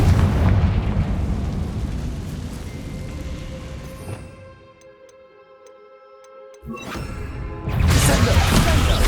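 Confringo fire spell explosion in Hogwarts Legacy, loud rumbling blasts at the start, a quieter stretch with faint ticking tones, then another burst of booming impact near the end, with game sound throughout.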